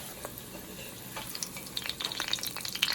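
Chebureki tacos fry in a pan over medium heat with a quiet, bright sizzle and scattered pops and crackles that grow a little busier toward the end, close and faint, no speech.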